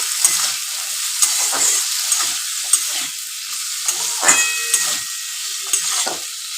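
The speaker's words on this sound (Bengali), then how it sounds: "আলুটা ভাজা পর্যন্ত অপেক্ষা করবো" Potatoes fry in a pan with a bright, hissing sizzle, punctuated by regular sharp stirring strokes of a utensil, loud and close.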